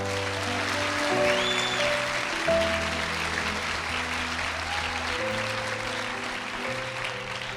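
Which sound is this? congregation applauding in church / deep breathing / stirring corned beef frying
congregation applauding in church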